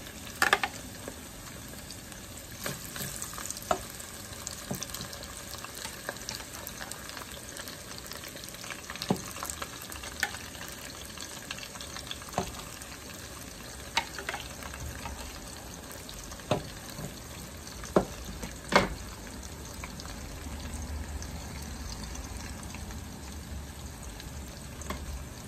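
Asparagus frying in a pan, a steady soft sizzle with scattered pops and occasional scraping stirs, close and continuous with no talking.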